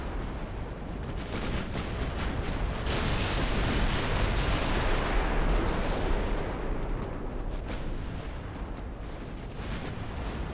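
Naval artillery fire in Ultimate Admiral Dreadnoughts, with a British battleship under incoming shells: a constant booming, rumbling barrage of distant gunfire and blasts that swells midway, then eases slightly.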